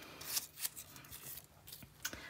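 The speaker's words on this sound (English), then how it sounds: "finer tipped scissors." Fine-tipped scissors fringe-cutting paper for a scrapbook page, a series of quiet, crisp snips at an uneven pace, close and without talk.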